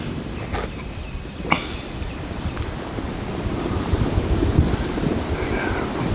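Ocean waves wash at the beach edge near Étang Saint-Paul on Réunion, a steady broad surf roar mixed with wind buffeting the microphone and a few faint clicks, with no voices.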